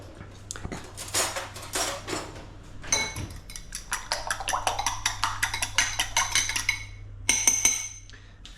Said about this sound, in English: we're just going to mix our eggs here